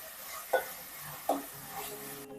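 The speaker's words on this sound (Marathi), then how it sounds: "आता आपण गॅस मिडियम करून घेणार आहोत आणि मीडियम गॅसवरतीच टोमॅटो छान शिजवून घेणार आहोत" Tomatoes sautéing over medium heat in a pan for prawn biryani, a quiet continuous sizzle broken by two distinct scraping strokes of a spatula.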